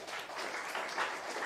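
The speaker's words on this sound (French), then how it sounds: "Merci et applaudissements," An audience at a French award ceremony for a bursary claps together, a continuous wash of applause heard at a middling distance with no voices over it.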